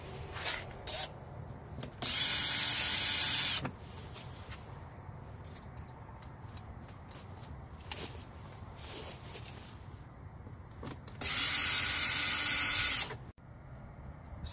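A power driver spins out Torx screws from a 2015 Dodge Ram 1500 tow mirror in two loud bursts of whirring, each lasting a second or so, with quiet handling noises between them.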